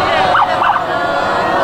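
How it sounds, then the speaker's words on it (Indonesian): An ambulance siren wails as a funeral ambulance carrying a coffin arrives at an Islamic center complex in Bandung, the rising tone brief and partly buried under loud crowd noise. "Rombongan dan ambulans yang membawa peti jenazah Emeril Khan Mumtaz, putra sulung Gubernur Jawa Barat Ridwan Kamil, tiba di Komplek Yayasan Islamic Center Baitul Ridwan"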